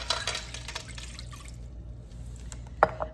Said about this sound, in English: and a glass of cold water.